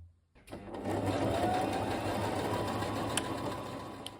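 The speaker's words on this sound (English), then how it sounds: "create a trifold and then sew all the way along the bottom" A sewing machine stitching a trifold hem along the bottom of a haori kimono jacket, running steadily and close with a dense continuous whir and a few faint clicks near the end.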